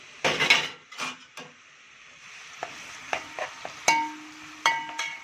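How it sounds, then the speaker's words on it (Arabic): Onion frying in oil in a pot, with a soft sizzle broken by a few louder bursts and scattered clinks and scrapes of a utensil against the metal. "والبصل عندي كده بتتحمر"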